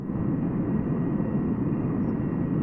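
A simulated TF-104G jet roars at takeoff with its first afterburner stage engaged, a loud continuous low rumble that stays full and steady with no voices.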